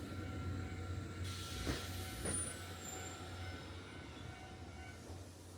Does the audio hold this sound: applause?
no